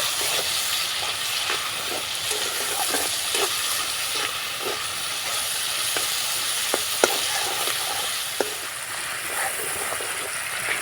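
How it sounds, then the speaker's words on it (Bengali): Turmeric, salt and red chilli powder masala frying in a pan for potato curry, a steady close hiss and sizzle with scattered scraping stirs and occasional sharper clicks of the spoon. "এবার মশলাটা ভালো করে নাড়াচাড়া করে কষিয়ে নেব"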